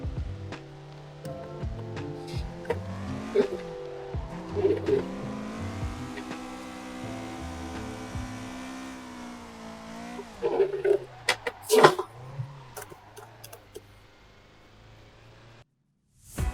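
A car drifts with its engine revving and rising under sustained throttle, tires squealing in sharp bursts, the sound swelling and fading as it slides past, with no talking.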